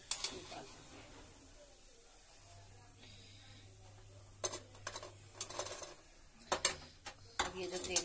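Fried moong dal is lifted from the pan onto a plate with a metal utensil, giving sparse clinks and scrapes that cluster near the end over quiet background hum.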